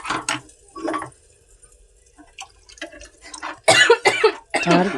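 Several sharp coughs and throat-clearing bursts, clustered near the start and again toward the end, with quieter gaps between.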